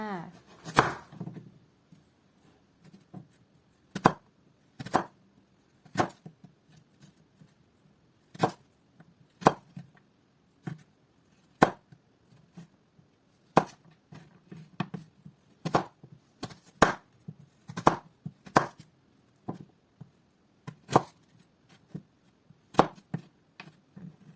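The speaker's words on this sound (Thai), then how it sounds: "สำหรับการหั่นแครอทนะคะ เราก็ทำการหั่นเช่นเดียวกับแตงกวา" A knife chopping carrots on a cutting board for homemade sushi, a long run of sharp, irregular thuds and clacks heard close and fairly loud, with no talking.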